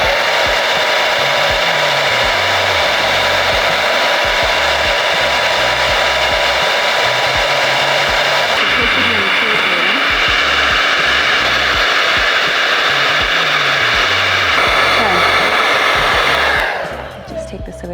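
A hair dryer blows cool air onto a wig cap in a continuous loud, steady whoosh with a slight shift in tone midway, close up, cutting off near the end.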